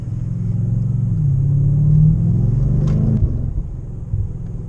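A 2020 BMW M8 Competition's engine and exhaust rumble steadily while driving, a deep, loud drone that swells and rises in pitch as the car accelerates, with no talk over it.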